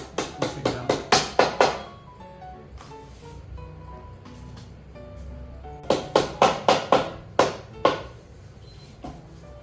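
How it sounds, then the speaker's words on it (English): Two bursts of sharp, rapid hammer taps driving plastic nails into holes on an IKEA Kullen side table, about eight strikes each, separated by a quieter stretch with faint scattered knocks; close and fairly loud. "Use the hammer to push it down."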